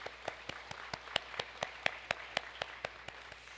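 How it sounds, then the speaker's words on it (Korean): Sparse, distinct claps ring out at a steady rhythm, only a few hands clapping in a quiet church hall during a New Year's Eve service. "우리 하나님께 감사의 박수 드리겠습니다"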